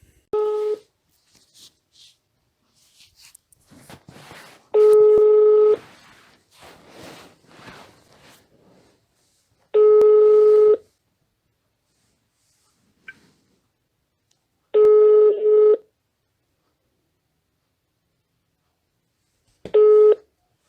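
A telephone call gives a repeating ringback or busy tone, five steady beeps about five seconds apart, loud and clean, with softer rustling and handling noises in the gaps.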